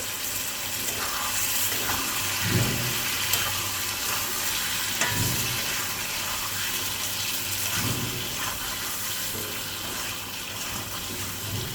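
Fried chicken pieces go into a pan with a little ginger, giving a steady close sizzle with stirring and scraping that runs continuously throughout.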